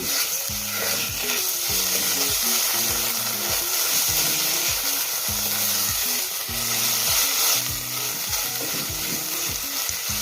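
Steady sizzling of tomato paste frying in a pan, with a spoon scraping and stirring in repeated strokes throughout, close and fairly loud.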